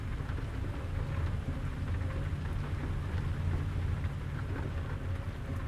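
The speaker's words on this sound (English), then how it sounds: "I kind of like to have the immersion of just hearing the rain patter" Steady rain patters continuously over a low, rumbling drone, like a downpour with distant thunder, with no voices, heard from inside a truck cab in the game American Truck Simulator.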